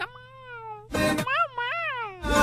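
A cat meows several times close by, long wavering cries with rising and falling pitch, interrupted by bursts of louder noise in between.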